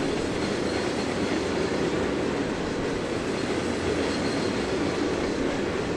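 A train engine rolls past in the railway simulator Trainz 2022, a steady, unbroken rumble of wheels and carriages held at constant loudness throughout.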